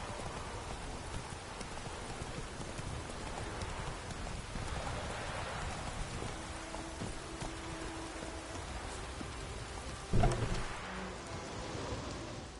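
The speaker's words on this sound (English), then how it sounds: "Let it rain." Steady rain pours in a video game, a soft, even hiss holding across the whole stretch with a brief louder knock near the end; no one speaks.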